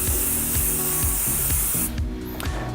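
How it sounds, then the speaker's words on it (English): A steady aerosol hiss of hairspray misted onto a soft brush sprays continuously for almost two seconds, then cuts off, over soft background music. "just spray a light mist onto a soft brush"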